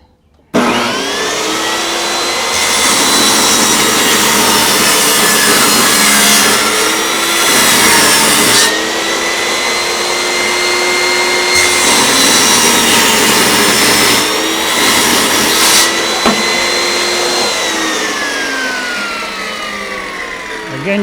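A table saw rips narrow wood strips in a loud, continuous whine that dips in pitch as each cut loads the blade, then winds down at the end.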